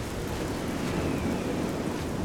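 Steady rain pours in the video game The Elder Scrolls IV: Oblivion, forming a dense, even wash of sound with low rumbling thunder underneath, continuous and fairly close throughout.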